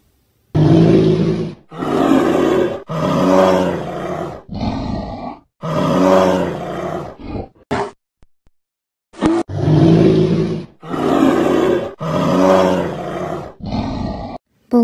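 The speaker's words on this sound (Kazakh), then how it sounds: "Аю да ақырады." Deep, throaty bear roars repeat in long, loud growling bursts separated by short pauses, close and forceful, with a brief quiet gap midway.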